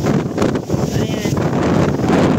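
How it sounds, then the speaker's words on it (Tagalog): Strong gusts at Victoria Peak in Hong Kong roar and buffet the microphone steadily, a dense continuous rush with voices mixed in. "Malakas talaga ang hangin."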